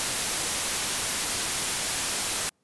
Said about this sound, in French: Ceci est un spectre de bruit blanc.